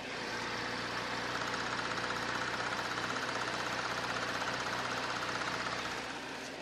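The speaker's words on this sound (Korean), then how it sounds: "이 차량 바로 이제 엔진 소리 한번 살펴봐 드릴게요" A 2011 Cadillac CTS 3.0 V6 idles with the hood open, a steady, even mechanical hum with a faint ticking texture, heard close up and with no voices.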